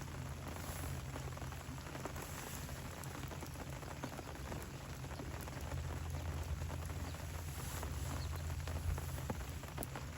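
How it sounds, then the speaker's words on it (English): Steady rain falls at a carp fishing spot, an even, continuous hiss of drops hitting surfaces with a low rumble underneath, unbroken for the whole stretch with no voices. "It'd be nice if they waited for the rain to stop"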